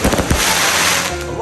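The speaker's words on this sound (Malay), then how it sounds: "Persembahan bunga api di Bukit Candan" Fireworks display over Bukit Chandan, Malaysia: loud rapid crackling bursts and booming pops early on, then a dense continuous fizzing roar of firecracker-like crackle filling the rest, close and intense.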